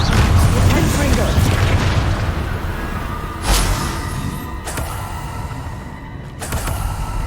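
A Confringo fire-blast spell in Hogwarts Legacy, heard as booming blasts with whooshing bursts at irregular intervals over a loud, continuous rumbling game soundscape.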